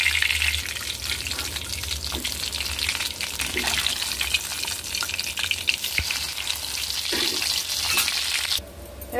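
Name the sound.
hilsa fish frying in a pan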